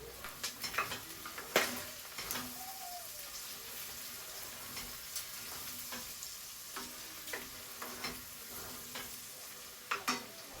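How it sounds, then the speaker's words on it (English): A pork and tomato dish sizzles in a pan while being stirred, with a continuous frying hiss punctuated by scattered clicks and scrapes of the utensil against the pan. "Give it another stir."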